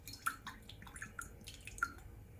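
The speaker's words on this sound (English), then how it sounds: "Now I made a little bigger hole, and the water is coming out easily for this also." Water dripping and trickling from a coconut pierced with a small hole, a few soft separate drops over low steady background noise, close and faint.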